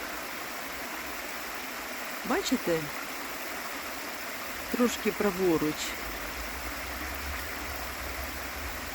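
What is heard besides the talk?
Sinyak river flowing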